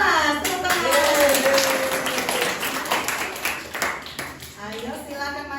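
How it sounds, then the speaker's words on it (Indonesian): A classroom audience at an Indonesian university teaching session claps in a dense burst of applause that fades after a few seconds, with children and adults talking over it. "Tepuk tangan."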